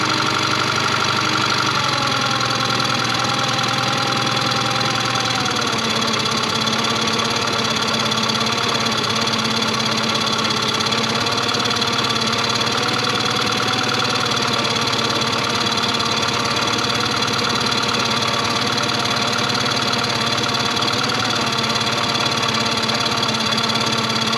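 A Yamaha 15 outboard motor, recently serviced after five years stored in a barn, idles steadily during carburetor adjustment. The close, continuous engine drone audibly drops in RPM a few seconds in, then holds at the lower, even idle.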